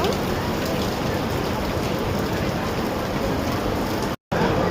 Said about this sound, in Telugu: చూసారా, ఫుల్ వర్షం పడుతుంది అన్నమాట.